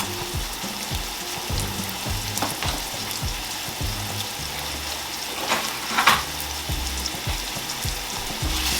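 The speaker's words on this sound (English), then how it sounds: "you want to cook your onions until they're fairly translucent" Onions sizzle steadily in a pan on low-to-medium heat as the base for a mushroom and pea risotto, a continuous close frying hiss with occasional scraping and stirring sounds and no talking.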